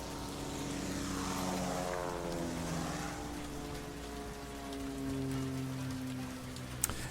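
Propeller aircraft engines in the airport management game Airport CEO drone steadily throughout, with several planes' tones sliding up and down in pitch as they pass, over a constant rain-like wash; no talking.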